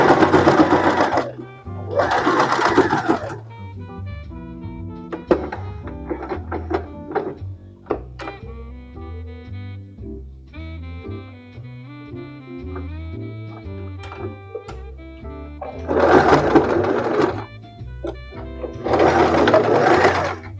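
A sewing machine stitches fabric in short bursts of rhythmic mechanical whirring, close up, with pauses between runs and a couple of louder, busier stretches near the start and end.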